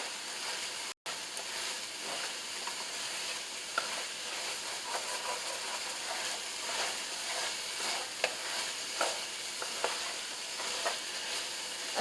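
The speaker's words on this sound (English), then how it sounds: "So let's stir this." Okra stew in a pot being stirred, with a soft steady sizzling hiss and faint scraping strokes, quiet and continuous, with no talking.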